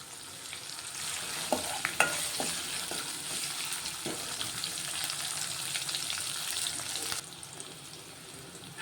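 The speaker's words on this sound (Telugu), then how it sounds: "ఇవైతే ఫ్రై అవుతున్నాయి" Ingredients frying in a pan, a steady bright sizzle with spoon scrapes and clicks of stirring early on, the hiss dropping off suddenly near the end, no speech.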